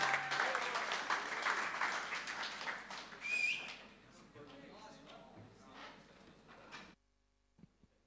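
Audience applause at a Toi Ohomai end-of-year concert in Tauranga, a dense burst of clapping and cheering that fades over several seconds before cutting to near silence.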